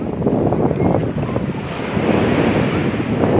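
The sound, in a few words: sea waves at a beach near Burj Al Arab, Dubai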